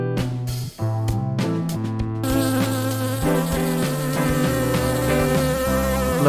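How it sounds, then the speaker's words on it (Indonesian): Steady insect buzzing, like a bee, mixed with tonal, music-like notes that continue throughout, loud and close. "Lebah."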